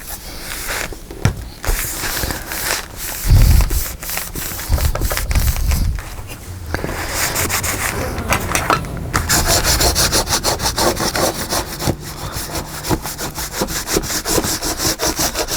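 Glued paper edges on a Stamperia Roses and Lace craft page are burnished, giving steady, close scraping and rubbing strokes in a continuous rhythm with a few louder knocks, and no one talking.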